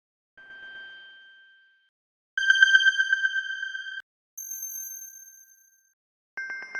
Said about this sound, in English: It was the last one, the Sweet Luck Chime, that sounded exactly how I wanted it to be, right? Like a high-pitched bell.